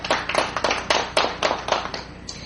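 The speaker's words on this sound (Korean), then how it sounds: "보내주신 축사와 축전에 감사의 박수를 다시 한번 보내드리도록 하겠습니다" Audience applause at a Korean religion forum ceremony, a brief burst of clapping from a seated crowd, moderately loud with uneven rhythmic peaks that thin out toward the end.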